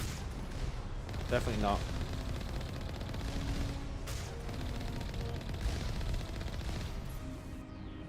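Mass Effect 1 Legendary Edition combat, with turrets firing rockets: a steady, dense rumble of rocket fire and explosions runs throughout, with someone speaking briefly over it.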